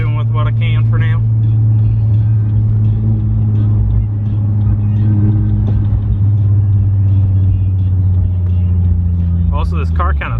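Steady low engine drone from inside a manual Nissan 350Z driving on slippery, rain-wet roads, holding an even rumble throughout, with faint voice-like sounds near the start and end.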